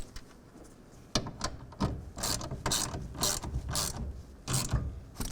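A ratchet tightens a clamp for a Truxedo Pro X15 tonneau cover on a GM full-size pickup truck bed, giving a close series of loud, rhythmic clicking strokes with brief pauses between pulls.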